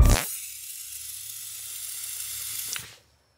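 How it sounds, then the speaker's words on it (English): A sharp burst of spray shot from a character's mouth in the Poppy Playtime Chapter 3 game hisses steadily for about three seconds, then cuts off abruptly, loud and alone. "can you shoot spray out of your mouth?"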